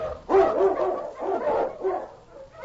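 Eskimo lead dog barking in an old-time radio drama of the Yukon, several quick, close barks and yips in a short burst, loud and alone without talk.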